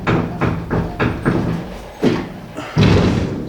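Several heavy door slams and thuds from the cab door of a 1959 Chevrolet Apache truck with a worn, pinless hinge, banging repeatedly in an uneven rhythm, close and loud, with no talk.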